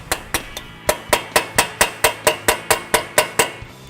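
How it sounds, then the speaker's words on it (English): A mallet strikes a punch to drive the axle out of a 2003–2005 Honda Pilot during strut replacement, giving about fifteen sharp metallic hits at a steady, even rhythm, close and loud, with no talking. "Use a mallet and a punch to drive the axle through the splines."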